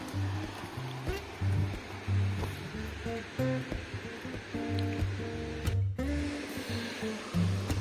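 Netravali Savri waterfall rushes as a broad, continuous roar of falling water, heard from a viewpoint along the steps with fluctuating surges and brief handling noise, no talk.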